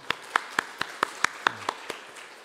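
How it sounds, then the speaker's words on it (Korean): At a Sunday worship service in a Korean church, a single pair of hands claps in a steady, even rhythm, about ten crisp claps close to the listener, with no speech over them. "우리 하나님께 박수로 영광 올려드리시겠습니다"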